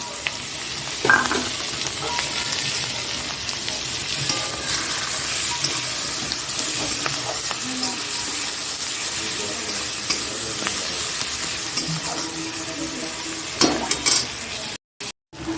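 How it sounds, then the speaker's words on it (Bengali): Onions sizzle and fry in hot oil in a pan for Bengali egg curry, a steady crackling hiss running throughout with occasional stirring clatters and a brief dropout near the end, with no talking. "এখানটায় তেল গরম হয়ে গেছে পেঁয়াজগুলো দিয়ে দিলাম"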